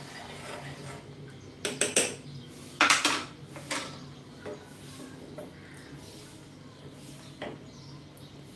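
A spoon stirs dhaba-style green peas curry with peanut butter in a pan, with a few sharp metallic clinks and scrapes clustered early on, then softer, sparser taps against the cookware.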